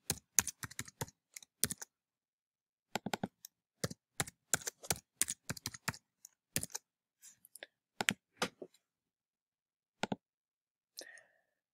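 Fingers type a new password on a computer keyboard, giving quick bursts of crisp key clicks separated by short pauses. The bursts end in a final few taps, and no one speaks.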